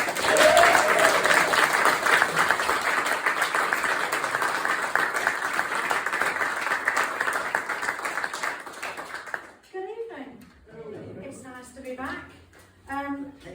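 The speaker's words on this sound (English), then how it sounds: "please, like, applaud and cheer" Comedy club audience applauding and cheering loudly for a comedian, dense sustained clapping that fades after about nine seconds, then a single voice begins talking.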